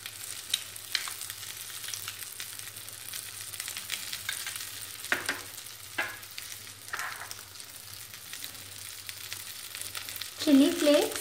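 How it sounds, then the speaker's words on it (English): Melted butter sizzling gently in a pan while making anda pav egg buns, a steady low frying hiss throughout with a few soft stirring clicks and a brief louder scrape at the end. "To this, I'll add little melted butter."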